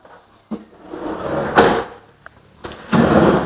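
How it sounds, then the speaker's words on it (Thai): A kitchen drawer in a wooden knock-down cabinet, part of a three-tier set with a spoon tray, is pulled open and pushed shut several times, giving close, distinct thuds and sliding rattles with no talk. "ถัดมาครับลิ้นชักสามชั้นครับ มีถาดใส่ช้อนให้ครับ"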